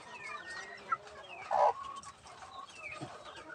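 Baby chicks peep softly in a nest and eat eggshell membranes. The high chirps are scattered and faint, with one slightly louder call near the middle and no talk.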